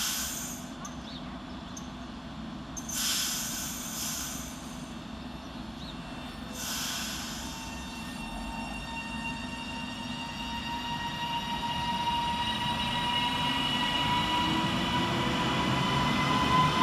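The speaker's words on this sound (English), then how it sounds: "Quickly on his heels is 397009 working the 1035 Transpennine Express service from Preston through to Edinburgh Waverley." A TransPennine Express Class 397 train running from Preston to Edinburgh passes through Lockerbie station, a low rumble growing steadily louder as it approaches, with a few short hissing bursts early on.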